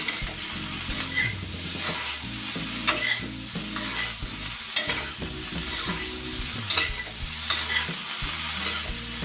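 Spiced cauliflower and potato sabzi, made without garlic or onion, sizzles in a pan under steady stirring, with a continuous fry hiss and repeated scraping and clinking of the spoon against the pan.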